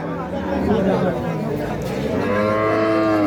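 Cows at a rural cattle market, with a long low moo rising out of a steady murmur of crowd chatter, close and loud, while someone talks nearby.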